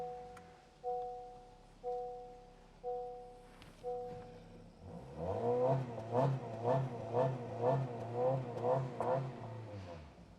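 A 2022 Honda Civic engine blipped in short rising revs about once a second, then held at a higher, steady droning rev with rhythmic pulses, heard close and moderately loud.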